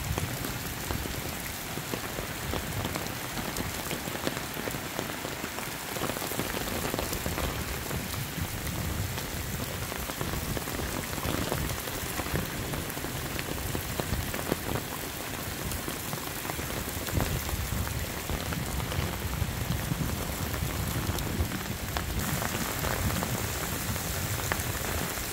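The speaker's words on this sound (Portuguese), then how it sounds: "aquela chuva é muito forte" Heavy rain pours steadily and hard onto surfaces for the whole stretch, a dense, constant roar with no voices.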